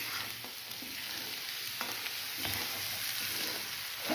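Spices sautéing in oil for a whole masoor usal, a steady soft sizzle with light stirring scrapes throughout, moderately close and unaccompanied by any voice.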